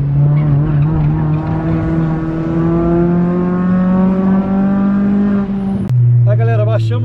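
Honda Civic coupe EJ8 lapping a race track, its loud, close engine revving and climbing in pitch before a sharp gear shift drops it to a lower note; a voice is heard briefly at the end.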